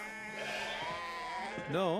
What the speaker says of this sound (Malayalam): ആടുകളാണ്.